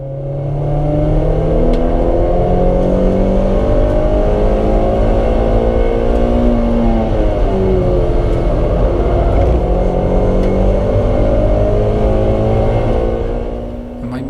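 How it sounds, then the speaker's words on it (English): A race car engine during a club race at Silverstone drones loudly and continuously, its pitch sagging and struggling as the engine bogs down rather than climbing, with no voices present. "The engine just bogs down."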